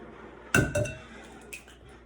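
Two eggs are added to a glass bowl for Grinch cookies, making a sharp clink, a second knock and a fainter tap, all quiet and close by.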